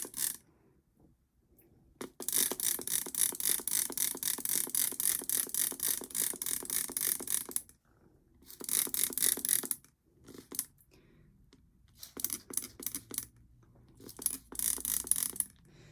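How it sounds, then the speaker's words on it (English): Bursts of rapid hissing sprays from a hand trigger bottle of neem oil solution aimed at spider mites around plants, a long continuous run followed by several shorter pumps separated by quiet pauses. "I'm going to spray the dividers in the middle where they might be crawling around."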